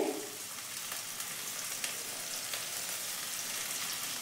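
Green chili paste sizzles in a frying pan while malai begun cooks, a loud, even hiss of hot oil that starts with a brief flare and carries faint pops and stirring scrapes. No voices are heard.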